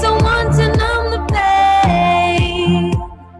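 Music streaming on Red River Radio: a song with singing over a rhythmic beat, steady and fairly loud, heard alone with no talk.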